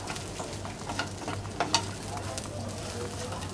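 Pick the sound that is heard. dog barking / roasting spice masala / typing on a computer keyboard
roasting spice masala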